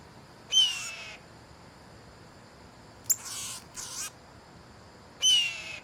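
A blue jay imitates a hawk's call outdoors, giving three separate screechy cries with quiet background hiss between them.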